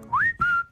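A person whistles two short notes, the first sliding upward and holding, then a brief break before a second steady note, close and clear with no talk.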